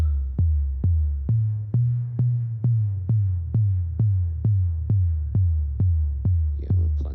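A regular pulse of deep modular-synth bass drum hits, about two per second, each with a falling pitch sweep from an envelope on the pitch, and a short decaying tail.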